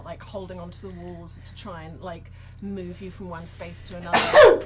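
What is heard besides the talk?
sneeze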